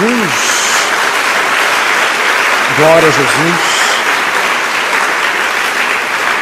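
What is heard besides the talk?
congregation applause for Jesus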